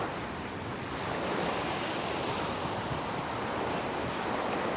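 Sea waves wash in a steady, broad roar of surf, continuous and fairly loud with a windy hiss, and no voices.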